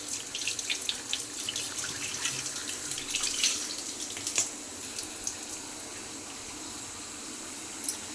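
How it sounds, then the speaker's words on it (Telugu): Raw mutton is washed in water with a running-tap hiss and splashing, louder in the first half and fading to a quieter trickle. "మళ్ళీ అలా దీన్ని వాటర్లో ఇలా క్లీన్ చేస్తున్నానండి"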